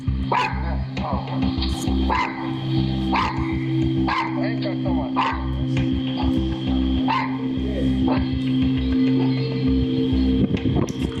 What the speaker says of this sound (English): Now y'all hear that little dog, right?